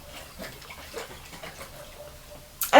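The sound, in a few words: shaking a bottle of water infusion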